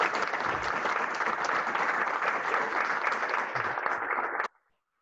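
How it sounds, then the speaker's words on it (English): An audience at a university investment society talk bursts into sustained, dense applause that holds steady for about four seconds and then stops abruptly. "let's give Whitney a round of applause."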